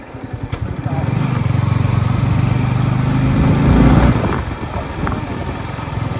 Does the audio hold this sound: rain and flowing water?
no